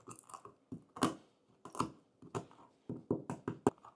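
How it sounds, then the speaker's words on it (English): A handheld pepper grinder cracking fresh peppercorns over homemade tzatziki, heard up close as a string of short, crunchy grinding bursts in an uneven rhythm with brief pauses between twists. "Got my handy dandy pepper grinder."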